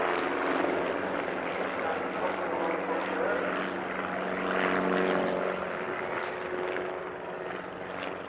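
An aerobatic airplane flies a low pass at the 1989 Ulster Airshow in Newtownards, its steady droning engine roar holding loud and continuous throughout and swelling slightly midway, under faint crowd ambience.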